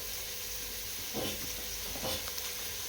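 Ghee sizzles in a pressure cooker being readied for chicken chops, a soft steady hiss with a couple of brief louder crackling bursts, fairly quiet and with no talking.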